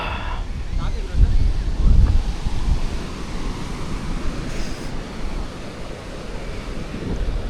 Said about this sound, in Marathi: व्हाईट वाळूचा समुद्र आहे